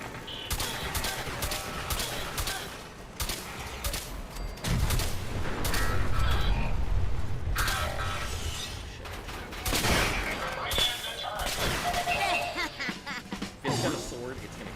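Repeated shotgun blasts in Fallout 4, sharp loud reports scattered through combat with booming impacts and crashes, irregular bursts under a talking voice.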